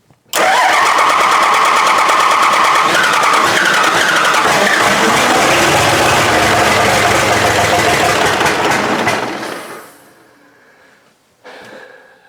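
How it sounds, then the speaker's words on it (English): A long-bed pickup truck engine cranks and fires up loudly nearby, then runs rough and sputters as if on two or three cylinders under throttle before dying away. A brief faint noise follows after a short quiet gap. "Sounds like it's running on 2 or 3 cylinders, and it doesn't sound good at all."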